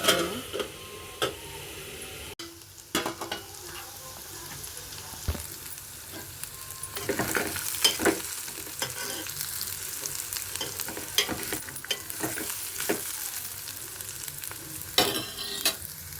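Ridge gourd peel fries in oil in a pan for chutney, a continuous close sizzle broken by frequent clicking and scraping stirs from a spatula.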